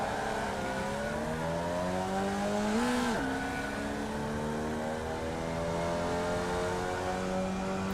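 Formula race cars in the iRacing VR sim roar off the grid together, engines rising through the gears in layered whines with a brief pitch dip as shifts happen, loud and continuous.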